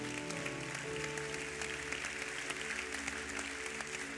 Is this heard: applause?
yes